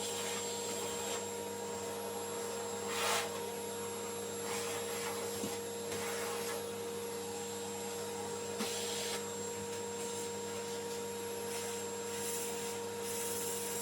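A vacuum cleaner runs steadily while cleaning out an old computer, a constant close whine with a sustained hum and occasional brief bursts of rushing air as the nozzle moves, with no talking over it.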